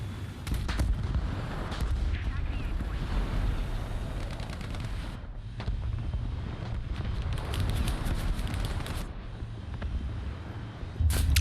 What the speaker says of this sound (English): Saved by the ERA there. It's a HEATFS round that hit me.